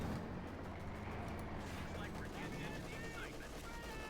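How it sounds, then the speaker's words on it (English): Mortar and rifle fire in the World War II strategy game Company of Heroes 2 crackle in a dense, continuous barrage under a caster's steady commentary. "Machine gun routed here by mortar fire and rifle fire"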